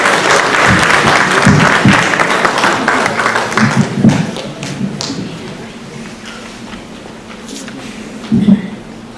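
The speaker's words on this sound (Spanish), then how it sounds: "Les pido un fuerte aplauso" Audience applause at an academic seminar on government programs, loud, close clapping from a room full of people that gradually thins and fades, with a few louder claps near the end.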